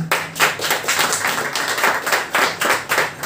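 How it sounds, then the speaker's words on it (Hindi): Applause from a small audience at a poetry gathering in a book cafe, a loose irregular patter of clapping hands with louder bursts, close and fairly loud, no speech over it. "तो आज की इस गोष्ठी के लिए जोरदार ताली।"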